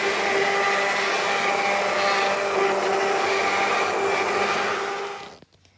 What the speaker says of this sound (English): I've got a hand mixer to do it with